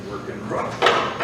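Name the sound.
old door lock mechanism being worked roughly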